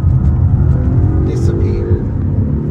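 Polestar 1 engine dropping a gear and pulling hard on a canyon road, a loud sustained rumbling roar heard from inside the car, steady and close throughout.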